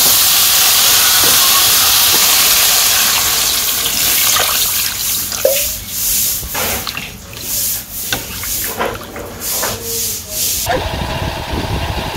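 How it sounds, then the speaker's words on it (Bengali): Water poured into a pan of potatoes and eggplant sautéing in spices for a village-style egg curry, giving a steady close sizzling hiss that breaks into bursts of bubbling and splashing as it settles. "এখন আমি জল দিয়ে দেবো।"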